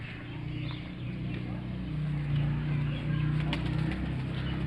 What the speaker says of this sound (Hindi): जी ये आ गया हमारा लाल बादशाह कबूतर